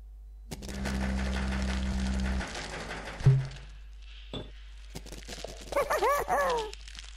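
A dog barks and whines near the end of a stretch of game sound in the video game Bulb Boy, following louder rumbling and crackling noises, with no talking.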